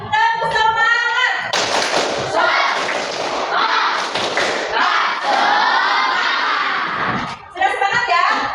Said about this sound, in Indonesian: Coba kita semangat dulu. Tepuk semangat.